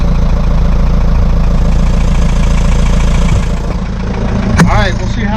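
A sailboat's engine idles with a loud, steady mechanical drone and a rhythmic chug. A brief sharp clank and a rising whine come near the end.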